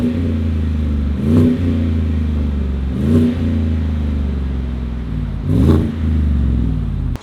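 A Chevy Silverado pickup with a muffler-delete exhaust idles with a loud, steady rumble, then revs sharply three times at roughly even intervals, each blip rising and falling back to the deep idle.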